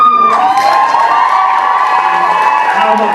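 Loud crowd cheering and shouting at a university Strictly-style dance competition, a dense, continuous roar of many voices that holds steady throughout.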